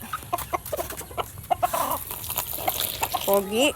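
Pet chickens cluck and chatter at close range during feeding, with several short calls, scattered pecking and scuffling, and a louder drawn-out squawk near the end, while a person talks in the background.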